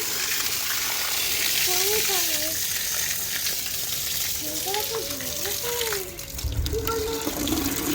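Tap water gushes steadily into a bucket at close range, with a voice and an adult speaking over the running water.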